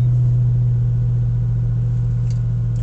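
Inside a 2007 Mustang GT with the stock muffler, the engine idles in a steady, loud, low rumble that holds constant throughout.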